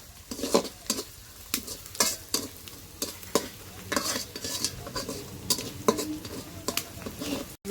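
Four eggs fry in a pan and are stirred over and over with a utensil. Sharp scraping strokes come at a steady rhythm over a constant sizzle, close and fairly loud.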